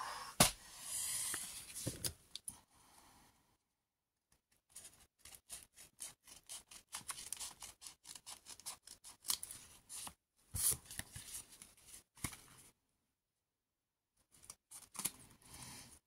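A paper trimmer slices through a thick stack of scrapbooking sheets with quiet, rapid bursts of scraping, clicking cuts separated by short pauses and near silence, close and soft, with no talking.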